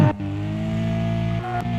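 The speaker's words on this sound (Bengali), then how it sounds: "রেসিং কারের আওয়াজ দিচ্ছে" Racing car engine in a mobile car video game, a steady sustained electronic engine drone holding one pitch, briefly dipping and rising again near the start and end.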